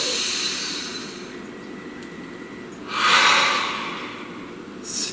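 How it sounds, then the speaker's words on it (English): One deep breath taken close to the microphone: a long hissing inhale swells near the middle and fades, with a second breath starting at the end over a low steady background hum. "Please take a nice deep breath."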